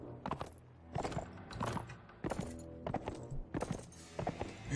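Horse hooves clop in the video game Mount & Blade: Warband, an uneven run of close thuds from a badly wounded horse moving slowly, in loud bursts with short gaps.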